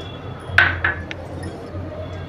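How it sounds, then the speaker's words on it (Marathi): Dry fruits drop into a pan while making kesari bhaat, giving a few sharp, bright clinks close by in quick succession, then quiet. "आता आपण याच्यामध्ये ड्रायफ्रूट्स घालून घेऊया."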